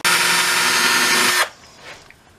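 A power drill with a Forstner bit boring holes through wood, a loud steady whining grind lasting over a second before cutting off abruptly, followed by faint workshop quiet.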